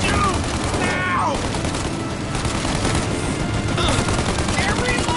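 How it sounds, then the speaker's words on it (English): Video game gunfire in Mafia: Definitive Edition, dense bursts of rapid shots and loud cracks crowding together in a continuous shootout, with no pauses throughout. "Shoot out your gun when there's a break in the fire!"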